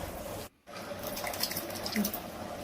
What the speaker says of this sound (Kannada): ಇವಾಗ 3 ಲೋಟ ಅಕ್ಕಿಗೆ 6 ಲೋಟ ಬಿಸಿ ನೀರು ಸೇರಿಸೋಣ.